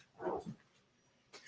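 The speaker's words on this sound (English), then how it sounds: "Let me see what this dog doing." A dog gives a short, fairly quiet bark or yelp, followed by a brief second sound about a second later, with no talking over it.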